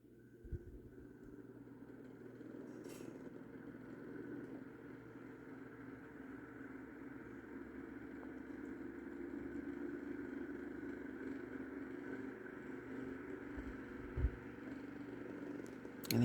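A Windmere 9-inch oscillating desk fan with a generic C-frame motor runs on high with its oscillator engaged, giving off a steady, moderate motor hum and whoosh that holds evenly throughout with no talking.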